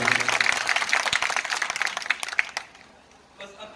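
An audience at an artists' welfare gathering breaks into dense applause that holds for about two and a half seconds and then cuts off, leaving faint voices behind.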